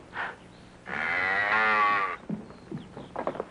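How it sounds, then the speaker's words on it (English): A cow moos once, long and loud at close range, the call swelling and then falling away, with quieter shuffling and faint noises around it. "Don't tell me you bought a cow."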